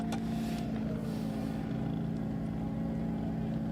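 A race car engine roaring on a speed run across El Mirage dry lake, a steady loud buzzing drone held throughout with a slight raspy edge.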